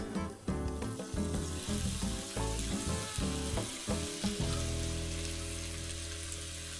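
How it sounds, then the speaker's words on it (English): Onion and corn sizzle gently and crackle in a hot pan, with soft clinks and scraping from stirring, over a background of music. "It's a really gentle sizzle that I've got going right now."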